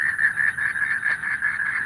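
Frogs croaking at night in Singapore form a continuous, even chorus of close, steady calls with no voices.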